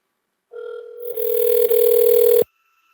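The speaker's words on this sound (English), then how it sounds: "I'm going to use my phone to call the bot that Gary just created." A phone call to a bot sounds as a steady electronic telephone tone that starts, holds for about two seconds with a brief shift midway, then cuts off abruptly.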